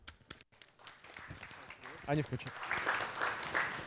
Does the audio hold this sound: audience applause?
yes